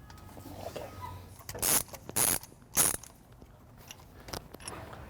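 A ratchet drives spark plugs, gapped at 35 thousandths, into the engine of a project Ford F-100 left sitting in a field for ten years. Three short, loud bursts of ratcheting clicks stand out over a quiet background.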